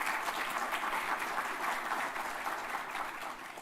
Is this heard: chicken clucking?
no